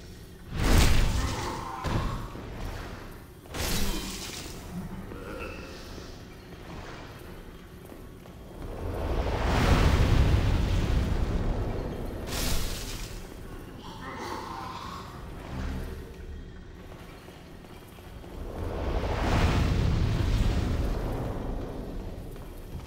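Explosions in Demon's Souls: a few sharp thudding blasts early on, then two long, deep rolling booms that swell and fade several seconds apart, fairly loud against a quiet background.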